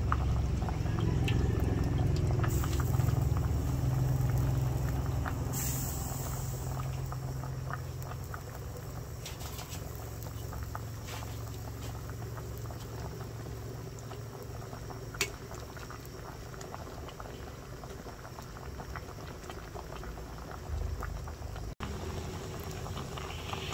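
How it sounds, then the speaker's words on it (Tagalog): Sinigang na lamarang, a sour fish soup, simmering in a pot, a steady low bubbling boil with a few small clinks, no talking. "bali kuluan na"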